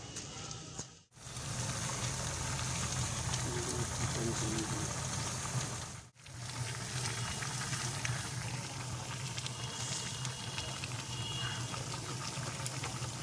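Beef boiling in a pot for degi korma, a continuous close bubbling and rolling simmer that runs steadily, broken by two brief drop-outs.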